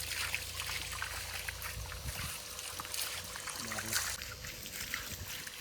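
Water poured and splashing while bathing a large buffalo outdoors, irregular trickles and splashes at moderate distance, with people talking over it.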